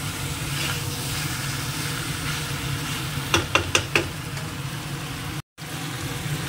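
Pieces of meat fry in a pan with a steady, close sizzle, while a short run of stirring scrapes and clacks comes midway, and the frying briefly cuts out near the end.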